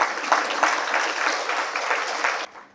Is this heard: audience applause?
yes